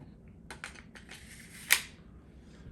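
Bolt being charged on a Keltec CP33 pistol, a series of mechanical clicks and a sliding rasp ending in one sharp metallic snap, close up and with nobody talking.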